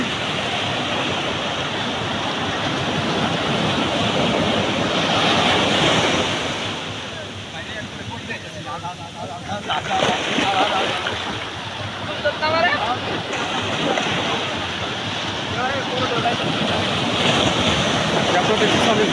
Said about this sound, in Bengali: ও মাই গড এত জোরে জোরে ঢেউ আসছে